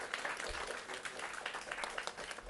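Audience applause at the inaugural national conference of a federation of press clubs, a dense steady patter of many hands clapping together throughout, fairly distant and filling the room, with no talk over it.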